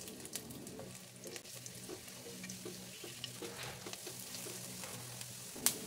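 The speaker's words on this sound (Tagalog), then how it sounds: "At kapag mainit na ito, igisa na natin ang luya." Ginger sautéing in hot oil in a frying pan gives a quiet, steady sizzle with light stirring scrapes throughout, close and unaccompanied by speech.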